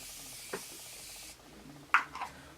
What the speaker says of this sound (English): I'm going to just spray my face because it looks a little dusty right now from all the powder